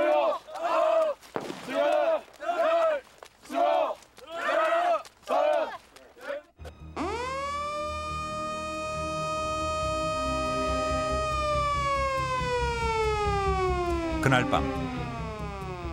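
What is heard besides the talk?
military emergency drill siren at night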